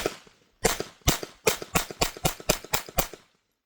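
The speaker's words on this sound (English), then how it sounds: "I'm just gonna point and shoot so you guys could see how the gun operates, and I'm just gonna shoot straight into the ground." Ten sharp shots from a Glock G44 pistol fired into the ground, mostly in a quick even rhythm after an initial gap, each crack short and snappy with a brief decay, no talk.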